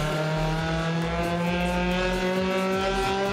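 A naturally aspirated 1.8 VW Mark II Golf drag car revs hard at a drag-racing event, its engine note climbing in repeated rising harmonic sweeps, loud and close with no pause.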